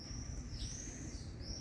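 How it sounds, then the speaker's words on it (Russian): Birds sing outdoors in Kherson in June, a thin, high, sustained whistling call drifting faintly over a soft background hiss, with no one speaking. "Птички поют. Какая красота."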